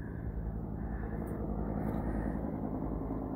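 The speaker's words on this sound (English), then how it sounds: "They're helicopter logging above the reservoir there," A steady, far-off rotor and engine drone from a helicopter logging above a reservoir holds at an even level throughout, with no voices.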